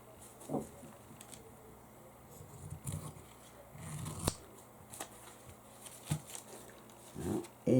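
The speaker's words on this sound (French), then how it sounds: "je vais donc juste découper la partie qui dépasse" Scissors snip excess ribbon from a sewn greeting card, a series of faint, short crisp cuts and light rustles at irregular intervals, close by against a quiet background.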